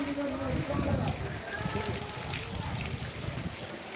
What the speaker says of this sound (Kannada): ಇದು ನೋಡಿ ಮಳೆ ನೀರು ಹರಿಯುವುದು